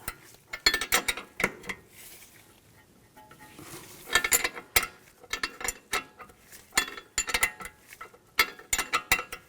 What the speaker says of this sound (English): Use a 16mm socket, 16mm wrench. Loosen up the nut.